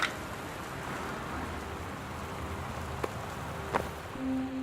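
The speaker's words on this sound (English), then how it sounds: "West Weather Service reports high winds and torrential rain conditions affecting the following counties." Storm ambience in the video game Gone Home, with steady rain hiss and high wind at low level throughout, a couple of faint knocks and a brief tonal hum near the end.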